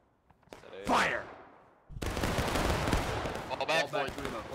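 Muskets fire in a volley in the War of Rights video game, a Civil War setting: a shouted command, then a loud, ragged burst of massed gunfire that rolls on for several seconds.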